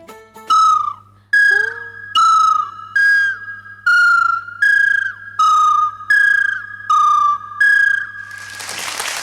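A human voice imitates two birds trading clear whistled calls in turn, about ten bright, slightly falling notes spaced evenly, loud and close, ending in a burst of hiss.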